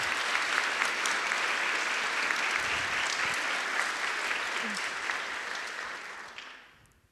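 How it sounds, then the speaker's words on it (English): A large conference audience applauds volunteers with loud, dense, sustained clapping that holds steady for several seconds, then fades out toward the end. "can we please have a big round of applause for them?"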